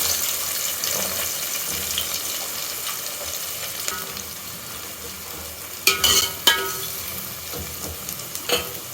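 Steady sizzling and frying of onions and tomatoes in a pan, with a few scraping stirs and clinks near the end.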